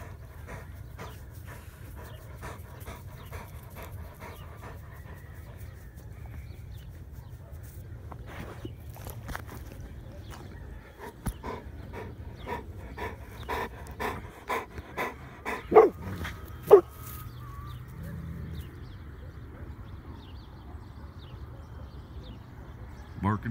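A mastiff pants heavily and rhythmically up close in the morning, with scattered footsteps and a couple of sharp louder bursts late on, while people talk over the panting.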